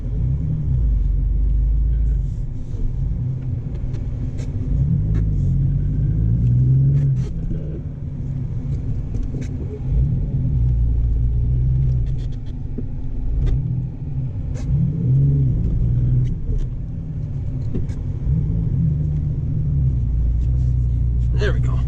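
A lifted Ford Ranger truck's engine rumbles loud and steady while driving through a snow storm, with a deep continuous drone and slight rises in revs.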